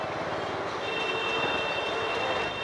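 A Mumbai monorail train runs near Lower Parel station, a steady rumbling roll with a thin high-pitched whine layered on top, heard close and continuously with no voices.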